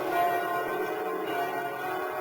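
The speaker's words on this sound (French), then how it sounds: "Au son des cloches, la population sort de ses caves ou abris" Church bells ringing in a steady sustained wash of overlapping tones, fairly loud and resonant, with no voices.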